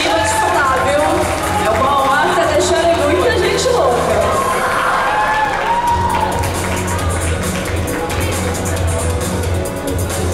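Audience at a Christmas-season cosplay parade in Santa Catarina cheering and clapping, a loud, dense crowd roar with whoops that swells through the middle and stays steady to the end, with voices mixed in.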